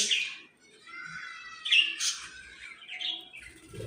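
A small bird on a balcony gives a run of quick, bright chirps and twitters, close and fairly clear, with pauses between bursts and no talk.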